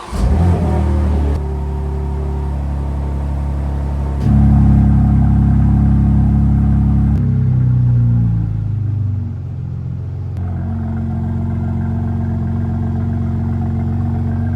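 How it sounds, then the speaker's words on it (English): A BMW M2 G87 with the S58 engine idles with a deep, steady rumble, stepping between a few distinct idle levels, close and loud with no talking over it. "The G87 literally idles so nice. It's the best idling S58, I think."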